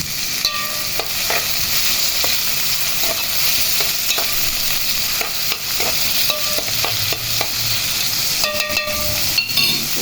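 Onion and garlic cloves fry in hot oil with a loud, continuous sizzle, broken now and then by the scrape and clink of stirring in the pan.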